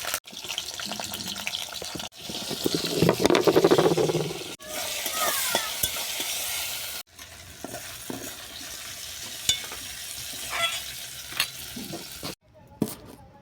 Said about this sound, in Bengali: বড়ির তেলে আমি লবণ হলুদ দিয়ে চিংড়ি মাছটাকে ভেজে নেব।